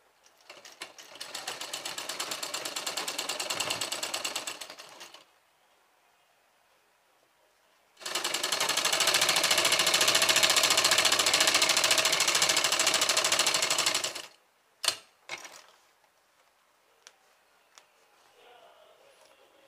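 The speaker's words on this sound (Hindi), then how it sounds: "चौक के निशान पर सिलाई चला लेंगे।" A sewing machine runs along a chalk mark on a school uniform, with two long bursts of rapid, even stitching separated by a pause, then a few short clicks and taps close by.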